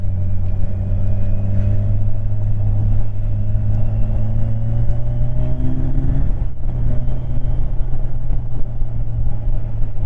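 A Kawasaki Ninja 1000 SX sport motorcycle engine drones steadily up close, its pitch climbing gradually as it revs, then dipping briefly and pulling up again.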